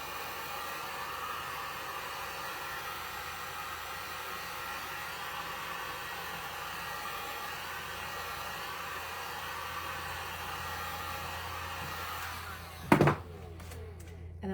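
A hair dryer blows steadily and loudly on a candle lamp's freshly applied patina, a constant whooshing drone that cuts off near the end, followed by a couple of sharp thunks.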